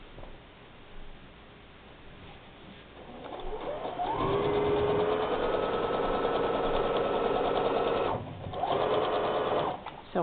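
A sewing machine runs steadily stitching quilt binding, starting after a few quiet seconds and holding a loud continuous whir, with a brief pause near the end before resuming.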